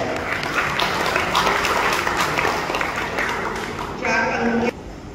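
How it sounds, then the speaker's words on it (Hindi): An audience at a poetry gathering (kavi sammelan and mushaira) in Moradabad claps and applauds loudly for several seconds, with a voice briefly rising over it before the clapping cuts off near the end. "एक बार तालियां बजाइए"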